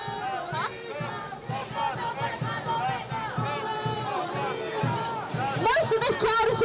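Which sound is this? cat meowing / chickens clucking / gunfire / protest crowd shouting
protest crowd shouting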